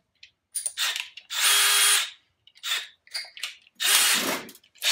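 A power drill countersinks a screw hole for a rail spike hanger, running in several short whirring bursts of rising and falling speed separated by brief pauses, loud and close with no talk.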